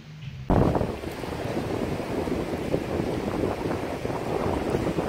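Wind and surf at Playa San Diego beach in Nicaragua: after a brief quieter opening, steady buffeting wind rushes across the microphone over a constant broadband roar of waves, with no voices.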